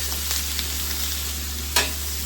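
Peppers and onions for fajitas sizzle steadily in a hot pan as they are stirred, a constant close frying hiss with a brief louder crackle near the end.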